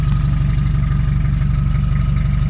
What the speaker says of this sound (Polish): Silnik bardzo ładnie chodzi.